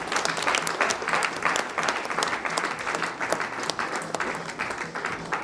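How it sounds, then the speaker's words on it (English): A crowd at a textile machinery exhibition society's 40th anniversary celebration applauds, sustained loud clapping from many hands filling the room without a break. "A big round of applause,"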